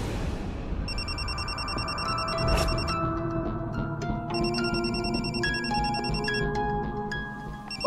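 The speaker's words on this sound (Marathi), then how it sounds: "बापरे, सरपोतर साहेबांचा फोन" An electronic telephone rings with repeated bursts of bright ringing tones for an incoming call, steady and fairly close, heard alone with no talking.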